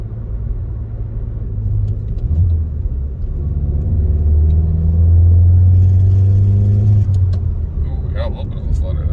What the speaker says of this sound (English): Ooh, we got a little bit of a flutter there.